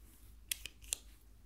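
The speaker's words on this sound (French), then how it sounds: "Perforatrice" A hole punch snaps through paper in a quiet ASMR setting, three sharp, close clicks in quick succession over a soft hiss.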